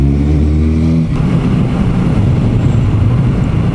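An Alpina car drives past close by, its engine note loud and steady with a rising rumble that builds after the first second and carries on without any talking.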